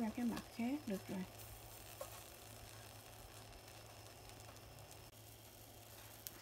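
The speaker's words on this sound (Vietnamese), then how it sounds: "Mình chiên khoảng 7 phút đó các bạn." Eggplant fries in a hot pan with a steady, even sizzle and crackle; someone speaks briefly at the start, then the frying carries on alone at moderate volume.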